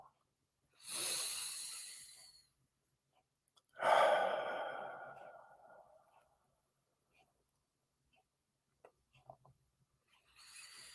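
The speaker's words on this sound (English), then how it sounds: "Continue to breathe through the exercise, breathing in deeply, breathing out." Slow deep breathing during a guided breathing exercise: two long, airy exhalations several seconds apart, close and clear in near silence, with a third breath starting at the end.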